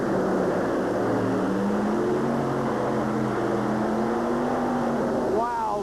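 A truck engine strains while pulling a weighted sled at a 1992 USHRA event in Oakland, a loud, continuous roaring drone with rising and falling pitch, under distant crowd noise and a commentator talking.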